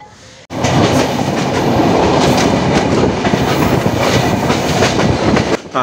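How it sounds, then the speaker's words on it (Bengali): A Rupshi Bangla or Jahanabad express train runs straight through near Navaran station without stopping, a loud close roar of wheels and rapid clickety-clack over the rails that bursts in suddenly and stays steady. "কিন্তু এই ট্রেনটা থ্রু পাস যাবে এবং এই থ্রু পাসটা আপনারা এনজয় করেন।"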